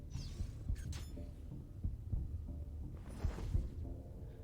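Heartbeat cue from Assassin's Creed Brotherhood multiplayer on PC, a steady run of low, muffled thuds repeating over a hum of game ambience, with a couple of brighter incidental sounds and no one talking.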